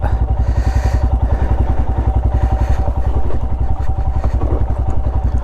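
A motorcycle engine runs close by during a short bike ride, with a steady, rapid, rhythmic thumping idle that holds evenly throughout.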